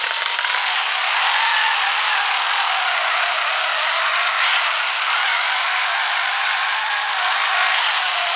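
Car engine and exhaust from the drift car game FR Legends, a steady, loud, continuous roar with a faint skidding rasp running throughout, no voices over it.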